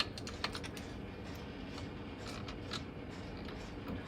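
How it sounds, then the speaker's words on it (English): Small screwdriver and screw noises come from undoing two black screw heads on an Adkins heat press, a quiet run of light, close ticks and clicks with no talk. "then we want to undo these two black screw heads"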